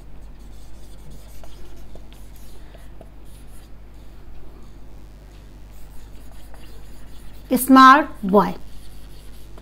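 Someone writes a sentence on a board during a grammar lesson. Quiet talking in Hindi comes first, then a couple of short, scratchy, close writing strokes near the end.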